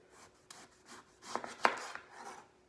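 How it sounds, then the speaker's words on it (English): A knife slicing a sweet potato thinly on a cutting board, a few faint rubbing strokes followed by a sharper cut and a soft knock, quiet and close with no talking. "So you're gonna slice your sweet potato."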